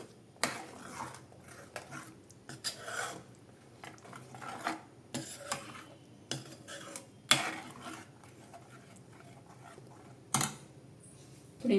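A spoon mixes fresh cream and thick curd in a bowl, with intermittent clinks and scrapes against the dish spaced irregularly between quiet pauses, close by and fairly soft.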